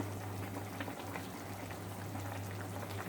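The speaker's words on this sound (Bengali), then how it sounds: "সবজিটা পুরোপুরি সিদ্ধ হয়ে গেলে আমি এর মধ্যে কাসুন্দিটা দেব" Vegetables bubble at a gentle boil in a pot, a soft steady burble with a low constant hum beneath, fairly quiet and close, with no voices.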